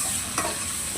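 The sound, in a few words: stirring boiled vegetables in a frying pan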